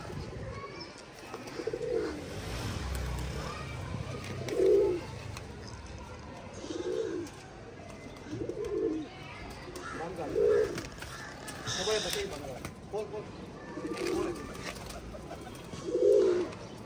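Pigeons at a rooftop loft for flying pigeons coo in a regular, repeated pattern about every two seconds, fairly close, while people talk throughout.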